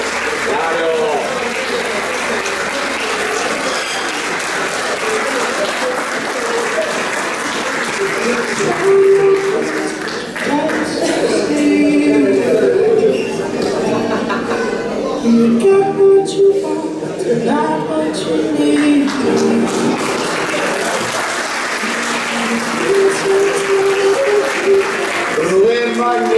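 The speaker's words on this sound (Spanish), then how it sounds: "Fuerte el aplauso para los campeones de 74" Audience applause at a 50th anniversary celebration honoring the 1974 championship team, steady and sustained across the whole stretch, with voices and crowd noise mixed in.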